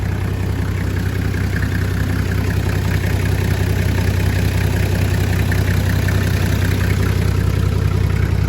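A Toyota 1HZ diesel engine with a JB turbo kit idles through a 3-inch exhaust with a deep, steady rumble and a faint lumpy pulse, close and loud, running evenly the whole time without any speech.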